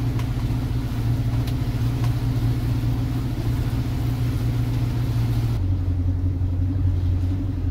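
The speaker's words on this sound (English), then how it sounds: "So I'm just running one engine right here." A single houseboat engine runs steadily on a river lock approach at night in strong wind, a continuous low rumbling drone with a slight shift in pitch partway through, no voices.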